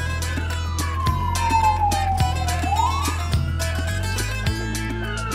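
An ambulance siren wails in a slow falling and rising sweep over a steady mechanical hum with periodic thuds, fairly close.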